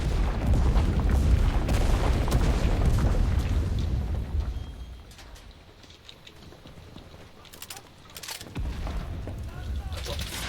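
Artillery fire in the World War II shooter Enlisted, with rumbling booms and heavy blasts that dominate the first half before easing, then returning with sharp cracks, while a voice talks over the battle.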